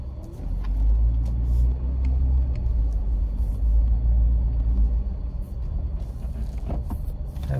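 A car drives with a deep, steady engine and road rumble heard from inside, continuous and fairly loud, with a few faint clicks and knocks near the end and no talk.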